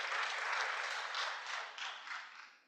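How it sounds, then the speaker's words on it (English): An audience at an Indigenous Peoples Day of Awareness symposium gives a steady round of applause that swells, then thins out and fades over a few seconds, with no talking over it. "give Ariana a big round of applause"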